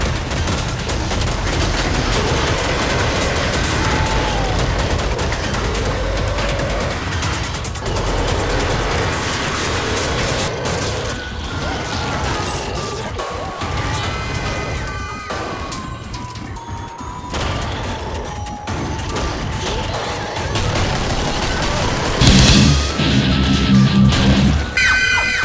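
Video-game gunfire from a pistol and lever-action rifle in a steampunk zombie shooter, with repeated shots and crashes over a dense, continuous layer of game music and effects, loud throughout.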